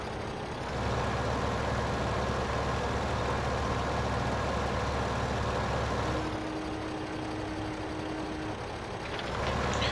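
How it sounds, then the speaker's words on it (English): A tractor or farm vehicle engine in the Farming Simulator video game drones steadily, with its pitch shifting partway through as the revs change; the sound is continuous and moderately loud, with no talking. "now the engine sound matches the RPM gauge"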